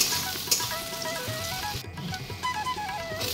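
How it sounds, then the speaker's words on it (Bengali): Onions and potatoes fry in a pan with a soft, steady sizzle and scattered crackles and pops, while quiet tonal background sounds run underneath. "এই যে পেঁয়াজটা একটু লাল লাল হয়ে গেছে, আর আমি আলুগুলো দিয়ে দিচ্ছি।"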